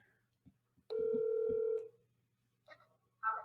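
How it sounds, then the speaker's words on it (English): A phone call is being placed: a sustained electronic dial tone sounds for about a second amid faint clicks and handling noise, followed by a brief burst of tonal beeps, with no clear talking. "we're dialing."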